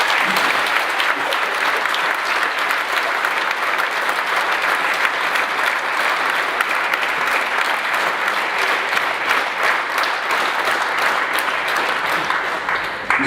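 A large audience claps steadily and loudly without pause at an orchestra's 10th anniversary concert, dense applause filling the hall.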